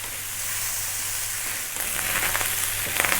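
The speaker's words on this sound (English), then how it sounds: "You can hear that rice frying," Vegetable fried rice sizzling and frying in a hot pan, a steady broadband crackle that grows busier and louder partway through, close and alone with no talk.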